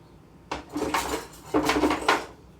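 A metal fork is grabbed from among dishes, giving two bursts of bright clinking and rattling of cutlery against plates, close and fairly loud after a quiet start.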